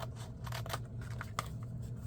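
Several crisp snips of scissors cutting paper for a no-sew journal at close range, short bursts spaced irregularly over a low steady background hum.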